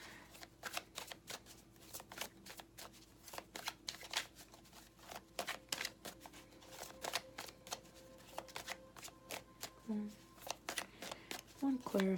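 A deck of tarot cards is shuffled in repeated riffling bursts during a card reading, with a quiet voice talking intermittently over the shuffling.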